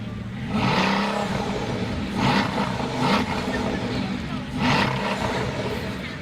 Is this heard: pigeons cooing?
no